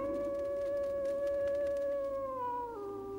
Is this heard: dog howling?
yes